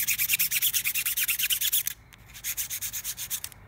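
Rubberized backing of a Brembo brake insulator from an ND Miata being sanded in quick rhythmic strokes, a bright scratchy rasp repeating about twice a second, briefly pausing midway before resuming, close and loud with no talking.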